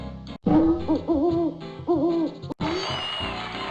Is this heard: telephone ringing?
no